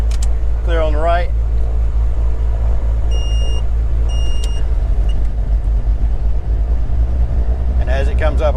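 The right engine of a twin-engine Beechcraft G58 cranks and catches, then settles into a steady, heavy low rumble close by. Voices talk briefly at the start and again near the end.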